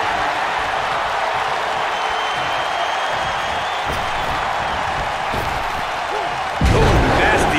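Arena crowd in the WWE 2K19 wrestling video game, a steady roar of cheering and applause under commentary, rising sharply near the end.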